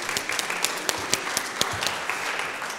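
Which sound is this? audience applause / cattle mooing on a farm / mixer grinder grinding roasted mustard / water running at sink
audience applause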